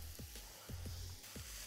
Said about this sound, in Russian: Капусту обжарю до полуготовности тоже.